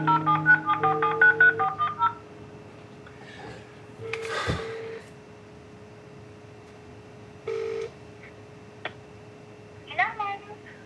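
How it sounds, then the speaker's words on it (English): A telephone number is keyed in as a quick run of touch-tone beeps, followed by spaced electronic ringing tones while the call connects. "has to make a heartbreaking phone call"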